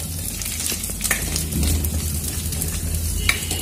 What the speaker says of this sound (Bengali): সেই জন্য আমি ঘি দিয়ে এটাকে ফ্রাই করছি